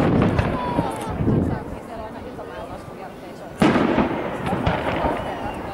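Fireworks launch and crackle outdoors, a couple of sharp bangs with fizzing and popping, while people talk nearby over the noise.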